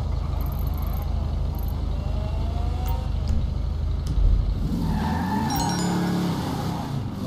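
A car driving in the video game GTA V: a steady engine drone under scattered clicks, with the engine note rising and swinging in the last couple of seconds as the car turns or skids.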